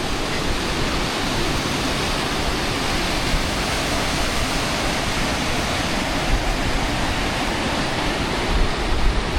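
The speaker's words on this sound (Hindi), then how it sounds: "हम वाटरफॉल के बगल में हैं। ये है व्यू, ये सामने में वाटरफॉल है।" A waterfall in the Darma Valley roars as a dense, steady wash of rushing water, loud and continuous with no break.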